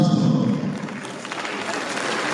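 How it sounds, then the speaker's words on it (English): Audience applause for a teens festival at a televised event, clapping building up after a low voice or murmur at the start and continuing steadily at moderate level. "Please, a round of applause for Teens Fall Apart Festival."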